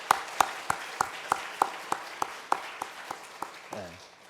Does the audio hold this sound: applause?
yes